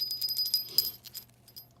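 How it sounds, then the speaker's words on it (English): A small handmade bell gives a few light, high ringing strikes in quick succession that fade to a faint jingle, quiet and close, with no talk. "And my bell"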